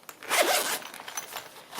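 Zipper on a small zip pouch being pulled open close up, a quick rasping zip followed by softer scraping and handling.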